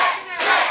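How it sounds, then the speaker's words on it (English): Wrestling crowd at the Sportatorium during a CWF Mid-Atlantic match, a loud dense roar of cheering and yelling that dips briefly, then surges back up. "listen to the crowd here in the Sportatorium"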